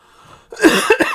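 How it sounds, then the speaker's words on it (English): A short, loud burst of coughing, two or three harsh coughs close to the microphone, after a brief quiet moment. "Sorry, I'm coughing."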